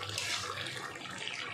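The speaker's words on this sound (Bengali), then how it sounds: "পরিমাণ মতো জল দিয়ে দিলাম।" Soft, steady splash and trickle of water being poured into a cooking pan with a paneer curry, heard faintly and without pause.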